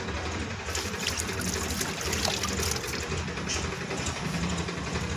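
Water runs steadily into a household storage drum, a constant close rushing trickle under a low hum with no talking.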